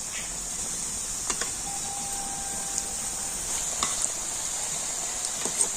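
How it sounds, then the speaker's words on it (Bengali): Dahlia flower pitha, a stuffed Bengali pastry, frying in plenty of hot oil, giving a steady sizzle with occasional stirring clinks throughout. "আর ওই তেলের মধ্যে এখন এই ডালিয়া ফুল পিঠেগুলো ভেজে নেব"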